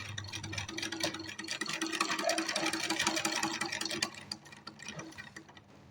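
Sewing machine stitching along a drawn pattern on a shirt, a rapid, even mechanical rattle that runs steadily near the mic for several seconds before slowing and fading out, with no talking.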